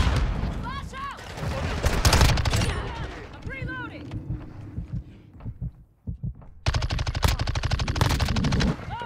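Rapid MX9 submachine gun fire in Modern Warfare 2 comes in loud, close bursts of fast repeated shots, broken by a short lull, with game effects and a voice talking between bursts.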